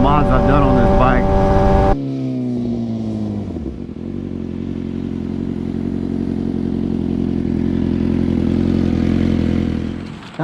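Engine of a modified sport bike winding down from a high whine to a lower steady drone as the rider slows to pull over, loud and close with wind rush throughout.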